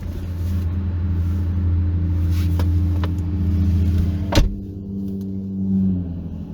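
Low, rumbling engine drone of a truck passing near a hiking trail in a golf development, holding steady for several seconds with a sharp knock midway before easing off into a softer hum.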